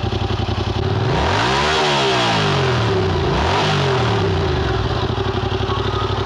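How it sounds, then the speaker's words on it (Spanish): Yamaha MT-07 parallel-twin engine revving twice, rising and falling in pitch over a steady idle, with a fairly quiet, subdued exhaust note and no talking. "le hace falta un poquito de sonido al motor"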